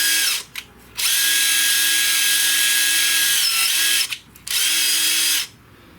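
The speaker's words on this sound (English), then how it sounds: "So we'll give that a good brushing on the inside." A soft bristle brush spun by a powered tool scrubs the inside of a part from a 2015 Ford Focus ST with a coolant leak. A loud, steady motor whine runs in long bursts, briefly stops and restarts, up close.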